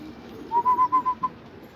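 Domestic pigeons sit in a crowded loft. A quick run of about six short, tonal cooing notes sounds close and clear, with no talking.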